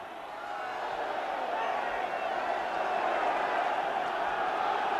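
Stadium crowd noise at a 1979 FA Cup match between Southend United and Liverpool, a steady, dense roar that swells slightly and holds loud throughout, with no distinct claps or chants standing out.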